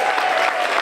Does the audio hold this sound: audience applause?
yes